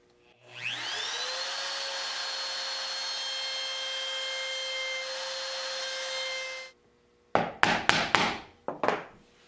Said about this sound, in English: mortising the hinges freehand with a small router with a 1/4 inch straight bit works very well